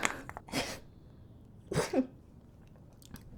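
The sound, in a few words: sneeze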